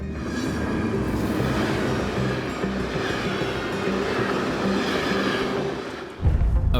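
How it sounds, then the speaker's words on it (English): A freight train rumbles past on the rails near a Norwegian station in winter, a loud continuous roar with rattling wagons and clatter that holds steady, then shifts abruptly as the last cars pass close by. "A freight train is headed straight for the snowblower, and they need to get out of the way."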